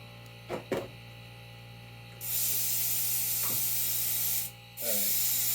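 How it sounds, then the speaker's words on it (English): A paint spray gun hisses into a cleaning station, two bursts of loud steady airy spray separated by a short pause, over a low electrical hum with a few light clicks before. "spraying it into the cleaning station that Awada has, just catching all the overspray."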